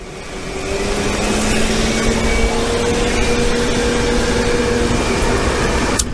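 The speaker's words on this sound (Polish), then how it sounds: "1000 watów odkurzacz Lidla, który miał mieć 3000" A Lidl 1000 W vacuum cleaner runs at full power as a steady, loud motor whine and rush of air for about six seconds, with no voices, and cuts off with a click near the end.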